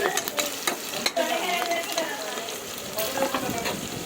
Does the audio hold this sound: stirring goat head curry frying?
yes